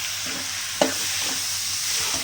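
Halved large tomatoes hit hot oil with softened onions in a pan for a South Indian anchovy and cowpea curry. A constant close sizzle runs throughout, with one brief stir or splash near the start and no talking.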